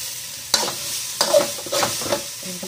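Rice being stir-fried in a pan for seafood chaofan, with scraping strokes of a spatula against the pan at irregular intervals over a low, steady sizzle, close and moderately loud, no talking.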